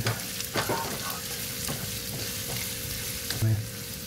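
Onions sautéing in a pan for sopas, a steady close sizzle broken by several scraping stirs, with no talking.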